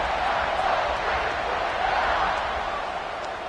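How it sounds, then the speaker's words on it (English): Steady, dense roar of a stadium crowd in a football video game, a constant wash of cheering that holds level throughout with no clear voices on top. "this crowd is buzzing after that last score"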